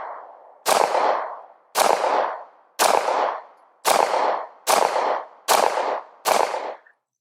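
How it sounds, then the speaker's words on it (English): Seven sharp gunshots from a pistol fitted with an Oak Plus 3.5 MOA red dot sight, fired at a steady pace of about one per second, loud and close with brief decaying tails and no talk. "so let's continue shooting."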